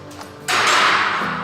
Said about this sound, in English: Here I'm grinding the end of each pipe to make sure it's nice and square, but also deburring the edge